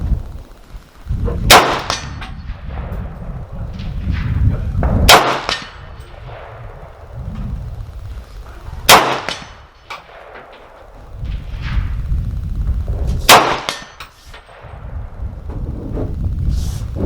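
Ruger Mini-30 rifle fired at a steel target 100 yards away outdoors, four loud sharp shots spaced a few seconds apart, each followed by a ringing clang, with wind rumble between.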